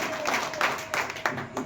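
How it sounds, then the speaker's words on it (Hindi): Audience applause welcoming a chief guest at a trader organisation's gathering in Uttar Pradesh, a short burst of dense clapping with a few sharper claps standing out, moderately close, with voices murmuring underneath. "जोरदार तालियों से आप लोग स्वागत"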